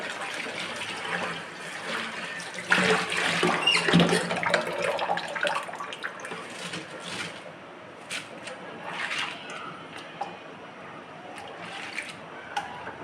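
Tap water runs and splashes while things are rinsed beside a clay stove, a close irregular patter with bursts and drips, with a voice speaking faintly underneath.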